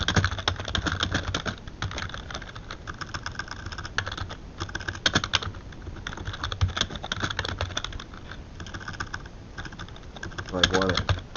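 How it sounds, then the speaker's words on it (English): Quick, steady keystrokes clatter on a computer keyboard at close range, running nearly nonstop with brief pauses between bursts. "The keyboard."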